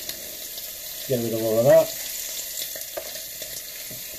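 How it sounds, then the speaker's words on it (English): Bacon sizzling in a pan, a quiet steady frying hiss running underneath, while a person talks and a brief tonal sound rises over it midway. "Bacon should be sizzling away nice now."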